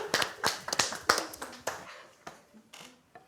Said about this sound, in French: Bravo, j'ai envie d'applaudir.